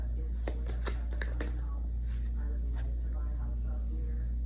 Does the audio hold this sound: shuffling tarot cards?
yes